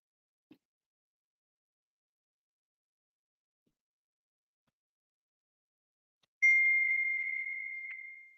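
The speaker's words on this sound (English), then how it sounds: "Mom giving me a notification she's going to bed" A phone notification chime sounds once near the end: a single steady electronic tone, fairly loud and close, that rings for about two seconds in an otherwise quiet room.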